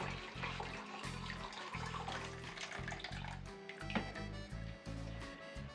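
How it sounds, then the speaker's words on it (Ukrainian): Hot water pours and splashes steadily into jars, a continuous running-water sound with low rhythmic thumping beneath, fairly quiet and without talk. "Заливаю водою"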